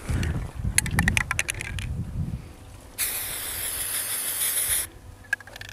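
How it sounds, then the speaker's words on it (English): An aerosol can of spray paint hisses in one steady, loud burst of about two seconds onto a self-healing shooting target, following some clattering handling sounds. "Get yourself a can of spray paint."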